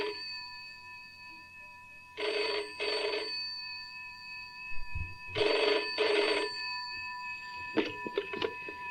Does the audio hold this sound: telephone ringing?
yes